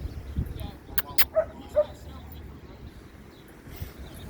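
Dogs at a dog park letting out a few short barks and yips, over outdoor background noise, with people talking nearby.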